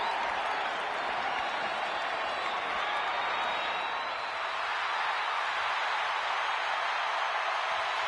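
Arena crowd in the WWE 2K25 wrestling video game roaring and applauding steadily, a broad, continuous wash of cheering.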